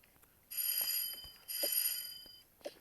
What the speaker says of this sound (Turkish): zil çaldı